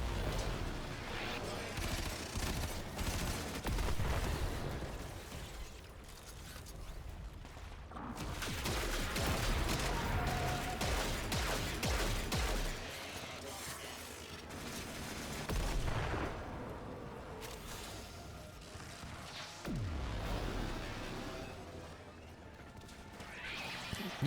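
Rapid bursts of gunfire from a gun in the video game Warframe, loud and dense, with repeated volleys and explosive blasts stacking over one another across the whole stretch.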